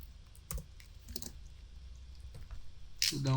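Typing on a computer keyboard, scattered sharp key clicks and taps at close range, fairly quiet, ending in a louder burst of sound.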